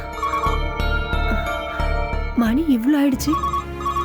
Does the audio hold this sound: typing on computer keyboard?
no